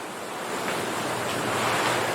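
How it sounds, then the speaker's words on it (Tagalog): A strong typhoon wind roars steadily and loudly, a continuous rushing noise with no voices. "Lakas ng hangin"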